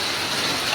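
Heavy rain pours down in a dense, steady hiss, a brief burst of downpour with hail and strong wind during a summer storm.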